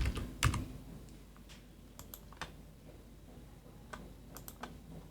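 Computer keyboard typing while copying and renaming spreadsheet entries, with scattered sharp key clicks and a few louder single presses, like Ctrl C and Enter, spaced irregularly over a quiet room background.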